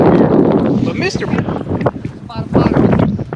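Strong wind on Lewis Smith Lake in Alabama buffets the microphone from a fishing boat in loud rumbling gusts, with people talking over it.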